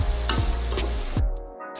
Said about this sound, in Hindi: 3 से 4 मिनट दाल को इसमें हम भूनेंगे।